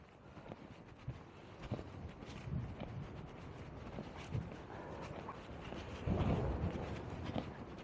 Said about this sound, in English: Wind's picking up again.